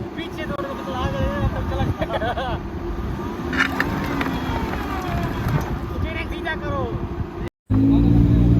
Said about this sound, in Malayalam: അപ്പോഴാണ് അതുവഴി പോയിരുന്ന ഒരു 4 വീൽ ഡ്രൈവുള്ള ചേട്ടൻ നമ്മുടെ സഹായത്തിനായിട്ട് എത്തിയത്.